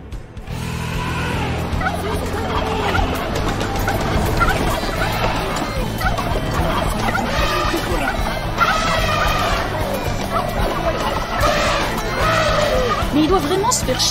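Turkeys gobble in a busy, continuous jumble of warbling calls, with voices and other noise mixed in throughout.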